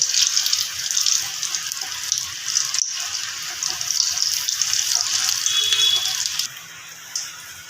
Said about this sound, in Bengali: ভেজিটেবিল চপ ভাজা হচ্ছে এখানে দেখতেই পাচ্ছেন